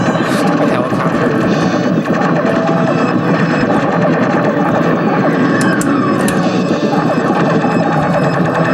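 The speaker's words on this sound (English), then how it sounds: "Stupid helicopter." A helicopter in the 1988 Taito Superman arcade game drones amid dense, loud electronic game noise, a constant clattering mix of engine hum, blasts and effects with no pause.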